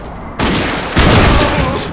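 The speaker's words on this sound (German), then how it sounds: "Das hat explodiert!" Two heavy bursts of explosions in the video game The Darkness II, the second louder and rumbling, with crackling noise sustained between and after.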